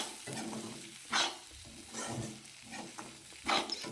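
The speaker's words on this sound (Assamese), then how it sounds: "এতিয়া ইয়াতে ক'লা তিলখিনি মই এনেদৰে অকণমান টাইম ভাজি ল'ম তেলত" Black sesame seeds fry in hot oil as a spoon stirs them, giving a soft continuous sizzle broken by a few sharper scraping strokes against the pan.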